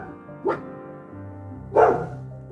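A dog barks near a fence, with one short, fainter yip followed by a louder bark over a second later, against a low background hum.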